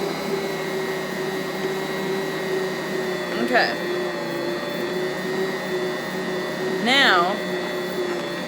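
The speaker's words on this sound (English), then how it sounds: "your Bosch should be making noises kind of like mine, where it's going kind of up and down in sound" A Bosch stand mixer kneading potato bread dough gives off a steady motor hum and whir that swells and dips slightly, with a person speaking briefly over it.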